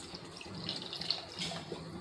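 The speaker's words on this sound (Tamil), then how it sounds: "இதில் 2ஆம் பால் இதில் ஊற்றிடுங்க." Second coconut milk poured into a simmering Tamil-style fish curry with coconut milk, a soft steady liquid stream running for about two seconds at low, close-up volume with no talking.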